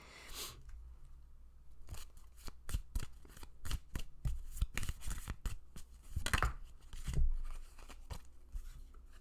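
Tarot cards are shuffled in a steady run of crisp riffling snaps and flutters, close and fairly quiet, with a slightly louder burst near the end and no talking.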